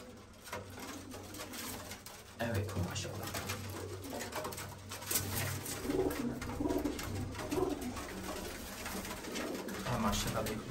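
Flying pigeons coo near the listener, repeated low coos running steadily under a voice talking over them.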